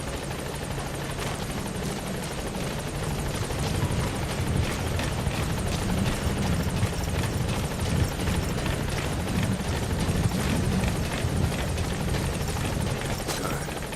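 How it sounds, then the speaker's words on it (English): Support helicopter in the Metal Gear Solid V video game arriving and hovering at a landing zone, a steady loud rotor thrum with whirring blade chop holding constant for the whole stretch, no talk over it. "Support helicopter has arrived."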